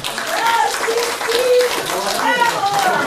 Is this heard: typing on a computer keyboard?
no